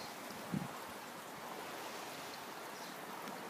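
Sea waves wash over a pebble beach near Kalamata, a steady hiss of surf with a brief bump near the start, fairly faint and without speech.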